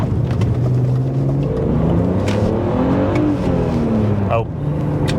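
A BMW E46 330ci fitted with headers and cats accelerating hard in a 0-60 attempt, engine revving and rising through gears with pitch sweeps, heard from inside the car, with people talking over it.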